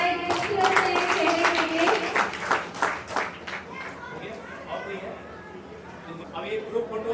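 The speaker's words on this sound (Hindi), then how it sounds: "एक जोरदार ताली हो जाए" Audience applause at a school's eighth anniversary function, a dense burst of many hands clapping that thins out after about four seconds, with voices chattering through and after it.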